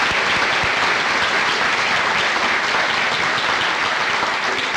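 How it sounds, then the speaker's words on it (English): Sustained applause from an audience at a 1991 articulation conference, loud and dense clapping holding steady throughout with no pauses. "I'd like to give them a round of applause for everything that"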